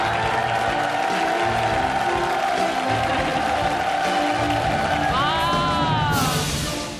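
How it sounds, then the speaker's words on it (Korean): A Korean TV health show studio audience applauds and cheers as a guest doctor is welcomed, sustained clapping and whoops under bright entrance music with a rising fanfare near the end. "큰 박수, 따뜻한 박수로 맞아주시기 바랍니다"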